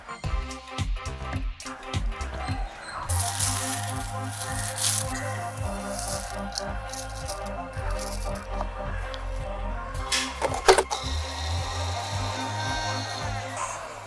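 Wet squishing and squelching as a lump of tamarind about the size of a large lemon is squeezed and dissolved in water by hand, steady and close, with a few sharper splashes and knocks partway through.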